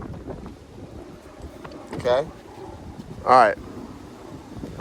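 Wind gusts buffet an open boat out on the water during a fishing trip, a steady rumbling blow across the microphone while a voice speaks briefly twice over it.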